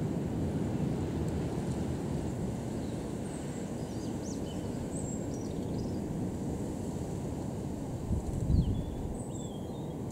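Gale-force wind roars in a steady, dense rumble with buffeting on the microphone at a Cambridge airfield, while a Britten Norman Islander comes in to land, sustained and fairly loud throughout.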